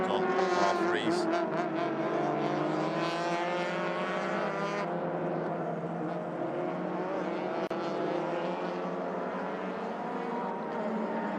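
Proton R3 race cars roar into turn 1 at a Malaysia Championship Series circuit, engines droning loud with a shifting pitch, while a commentator talks over the sound.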